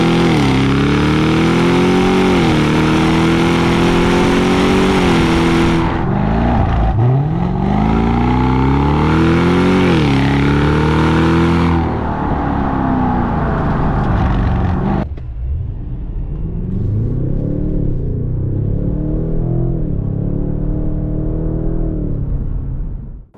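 Cadillac CT6-V engine revs hard and accelerates loudly and up close, climbing in pitch through repeated pulls, then settling into a lower, steadier drone in the final stretch.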